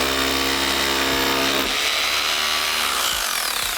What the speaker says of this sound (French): On va venir percer.